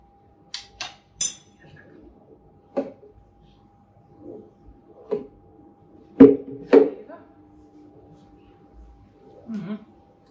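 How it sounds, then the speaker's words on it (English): Scattered clinks and taps of a spoon mixing a peanut butter banana smoothie in a glass. The sounds come alone, a few at a time with quiet gaps between them. "Take a spoon, mix it through, see the peanut butter is nice and dissolved."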